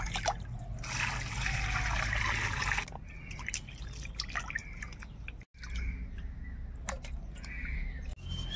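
Cut catfish pieces being washed in water, with close dripping and trickling splashes that come in bursts, loudest in the first few seconds and then lighter, with faint birdsong in the background.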